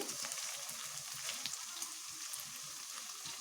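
Paneer pieces fry in oil for chilli paneer, a faint, steady crackling sizzle with soft low bubbling, no voices.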